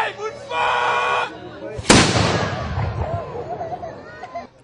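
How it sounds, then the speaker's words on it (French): A single loud gunshot cracks at a medieval reenactment event at a castle in Forbach, a sudden close blast trailing into a rumbling decay, preceded by a shouted warning and crowd noise. "Bouchez-vous les oreilles ! Coup de feu !"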